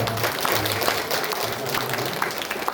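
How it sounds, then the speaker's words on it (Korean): A Sunday church congregation claps in blessing for an elder's sixtieth birthday, a steady, full round of applause with a low murmur beneath. "우리 축복의 박수를 한번."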